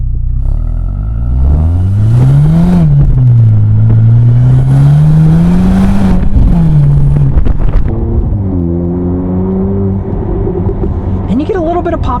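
A 2023 Mercedes SL43 revs and shifts, its engine note rising and falling loudly with crackling exhaust pops and burbles between gears, heard up close under the drive.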